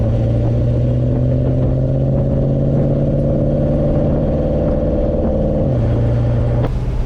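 A 1970 Mercedes 280 SE 3.5 Coupé with a steady V8-style engine drone under way, a loud continuous mid-low hum with a brief shift near the end, heard from inside the car.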